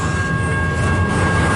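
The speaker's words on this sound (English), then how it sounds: "Man, this train is long." A CN 533 northbound local freight train rolls past close by in Richmond, Michigan, a loud continuous rumble of rail cars with faint squeal tones above.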